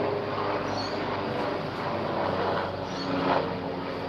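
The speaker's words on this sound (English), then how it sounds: "Then we've got a helicopter coming in to the hospital just over there." A helicopter flying in toward a nearby hospital, a steady broadband rumbling roar that swells slightly near the end, moderately distant and heard alone without talk.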